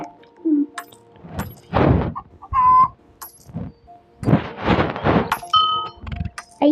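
Cartoonish chicken clucks burst out in short clusters, mixed with bright chiming and clanking game effects and brief silences between them.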